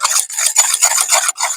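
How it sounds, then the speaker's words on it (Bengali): Salt and baking soda being mixed in a bowl: loud, close scraping and rubbing strokes in a quick rhythm, about six short passes with brief pauses between. "এই দুটো উপকরণ খুব ভালোভাবে মিশিয়ে নিয়েছি"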